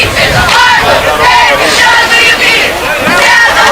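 Forest football crowd and cheerleaders cheer loudly at a high school night game, a dense roar of massed shouting voices that surges in waves and stays close and strong throughout.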